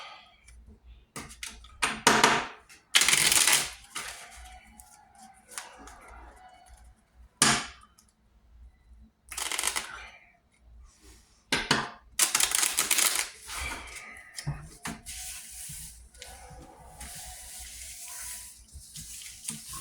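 Trading cards are shuffled and recombined by hand, a series of loud riffling bursts and soft sliding flicks in uneven clusters, close up and without talk.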